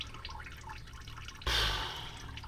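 Oil leaking and spattering beside the drain of a Deutz tractor during an oil change, a steady trickle that suddenly surges into a louder splashing gush, close up, with no talking.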